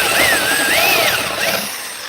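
A power drill bores holes in a metal bracket for a 5.0 Mustang, whining loudly up close with a rising and falling pitch as it bites, then spinning down near the end.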